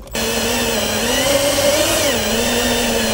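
A power drill whirs loudly and steadily after a quick start while drilling into a 2016 Chevrolet, its motor pitch dipping slightly and rising again for a few seconds.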